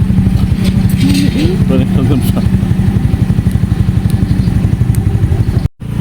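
A motorcycle rumbles close by at night with a loud, pulsing engine chug that continues throughout, while a voice speaks over it, before a brief dropout near the end.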